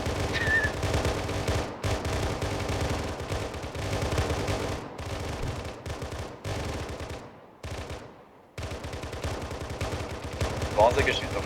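Dense video-game gunfire in SPEC7 Detachment Assault: rapid automatic bursts and sharp shots rattle almost nonstop, with brief gaps and occasional whistling effects, all loud and close.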